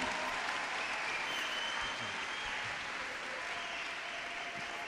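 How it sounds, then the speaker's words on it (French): Congregation at a Christian conference in Brazzaville applauding loudly and steadily, a dense wash of clapping with faint crowd murmur throughout and no talk over it. "On acclame Jésus, c'est pas moi"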